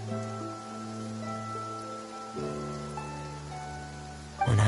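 Rain falls in the video game Genshin Impact, a soft steady patter spread across the clip beneath sustained tonal game music.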